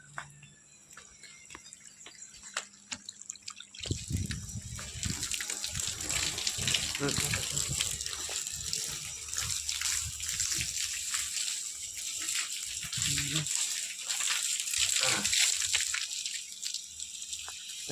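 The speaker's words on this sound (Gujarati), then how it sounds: "અત્યારે આપણે પાણી ચાલુ કરી દીધું પાછળના ભાગમાં માટી પલાળવા માટે" After a few seconds of quiet with faint drips and a voice, water starts gushing steadily onto soil to soak it, splashing loudly until the end.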